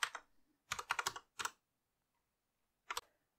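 Typing on a computer keyboard in short bursts of quick clicking keystrokes, close and quiet, with a pause and then one final pair of taps.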